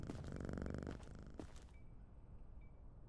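A cat purring in a video game, a soft rhythmic rumble for about a second and a half, then a short snort-like burst before fading to quiet, faint and close.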